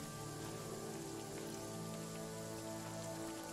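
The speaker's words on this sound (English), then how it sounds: "But it's nighttime and it's raining" Steady nighttime rainfall from the video game Jagged Alliance 3, a dense, continuous hiss of drops pattering on surfaces that holds even and close throughout, with no voices over it.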